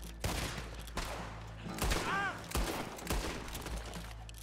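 Gunfire in the video game Red Dead Redemption II, a string of loud booming shots roughly every half second to second over a steady background rumble, with a brief ringing tone in the middle.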